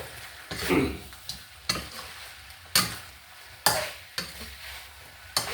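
Catfish stir-fried with chili and cumin leaves in a hot pan, loud sizzling broken by a series of sharp spatula scrapes and clanks roughly once a second, close and alone with no talking.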